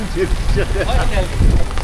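Heavy rain pours onto tents at a summer camp in Oman, a dense steady patter with low rumbles, while voices talk over it.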